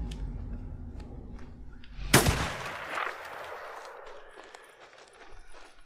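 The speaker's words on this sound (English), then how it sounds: "Where did that gunshot come from?" A single loud gunshot cracks out in the Days Gone video game, sharp and close, then rings and fades into a rumbling tail over quieter game ambience.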